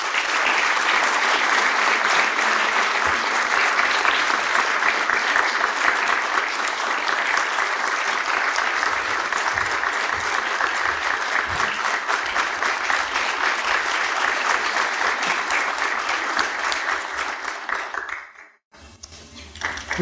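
An audience in a theatre applauds an actress invited onto the stage at a memorial evening, steady thick clapping that fills the room for about eighteen seconds before cutting out, followed by a brief resumption.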